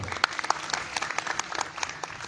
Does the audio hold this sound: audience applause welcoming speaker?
yes